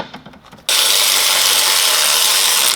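A ratchet fitted with a 10mm socket undoes an air box bolt on a 2002-2009 Hyundai Getz, a loud, fast continuous clicking that starts abruptly after a few quieter knocks and runs steadily to the end.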